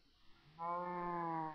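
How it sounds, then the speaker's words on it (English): A cow in the Minecraft FTB Marooned modpack gives a single drawn-out moo lasting about a second, clear and close against a quiet background. "Shut up, cow."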